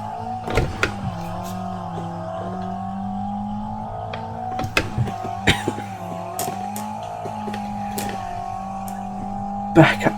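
A race car in BeamNG at Silverstone drones steadily under load, its engine note rising and shifting through gears with sharp clicks and thumps over the top, while a driver talks quietly.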